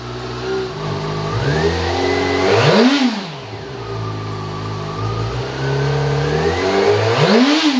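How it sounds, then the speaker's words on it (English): A motorcycle engine with a freshly installed battery fires up and revs, rising and falling through two strong throttle blips with steady running between, loud and close with no talking. "New battery in the bike. Fires right up."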